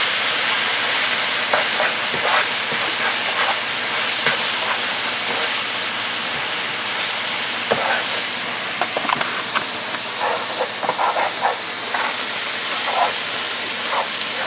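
Indian Maharaja curry with ghost chilies being mixed and stirred in a hot pan, a steady broadband sizzle running throughout with scattered scraping and clinking of the spoon, fairly close and continuous.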